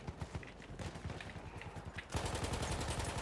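Rapid automatic gunfire from the World War I shooter Battlefield 1 during a team deathmatch, bursts of sharp shots rattling continuously and growing louder and denser partway through.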